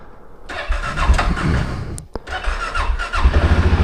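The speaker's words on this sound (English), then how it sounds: "Let's hop on the King Quad here, and we'll see what these things will do." A Suzuki King Quad ATV engine cranks and catches, then revs loudly and close by before settling into a rough, steady idle, with no talking.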